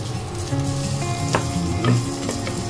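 Garlic fries in oil in a small pot until golden, crackling and sizzling up close with a few stirring clinks and no one talking.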